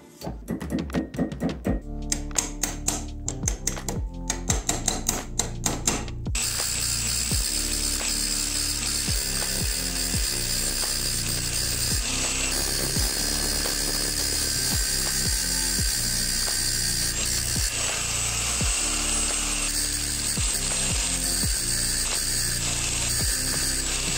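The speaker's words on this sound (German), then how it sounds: "Dafür nehme ich jetzt einfach einen ganz normalen Nagel und werde den so ein bisschen zurechtbiegen" An ordinary nail is bent into a curve and driven into a knife, with a series of sharp metallic clicks and taps at first, then a steady, loud mechanical whirring grind with repeated thunks.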